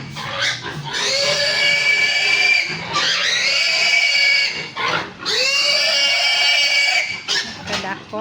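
A pig at a family celebration gives loud, drawn-out squeals and grunts in several long bursts, very close to the recorder.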